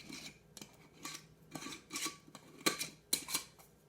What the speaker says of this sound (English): since I have a dirty spoon, I'm going to put my cover